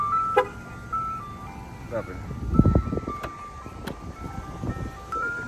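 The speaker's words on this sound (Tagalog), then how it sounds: "May pa-ice cream truck po." An ice cream truck jingle plays outdoors near a school drop-off area, a thin melodic tune running steadily under nearby talk and passing car noise.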